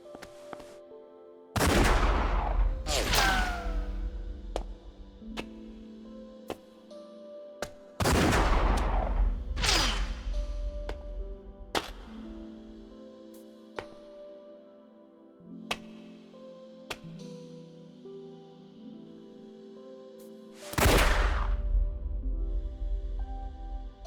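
Gunfire in the action game Like a Dragon Gaiden: several loud bursts of shots spaced apart, with sharp single cracks and tonal game music between them.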